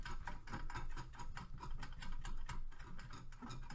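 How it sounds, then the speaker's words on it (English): Channel-lock pliers working a nut loose on the side of a home oil burner, a rapid run of close, clicking metallic ratchet-like ticks sounding steadily throughout. "we're going to remove this one nut here on the side"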